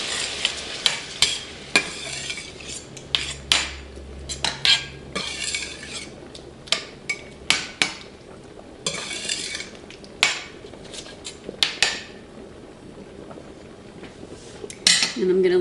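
Diced canned tomatoes cook in a pan for shrimp pasta, with sharp metallic clanks and scrapes of a utensil stirring against the pot over a low sizzle, close and irregular, no talking.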